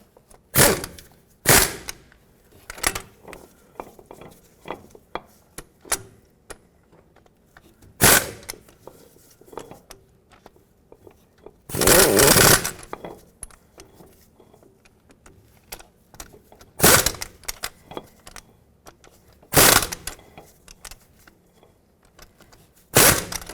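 Axle bolts on a 1997-2003 Ford F-150 being tightened in a cross pattern with a ratchet, bursts of sharp metallic clicks and rattles spaced irregularly between quiet gaps, close up.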